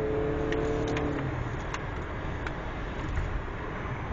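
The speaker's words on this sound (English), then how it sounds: "right there the turbos are kicking" A 2008 Audi A4 2.0T turbo engine accelerates as a steady, muffled drone heard from inside the car, with a few faint clicks and no speech.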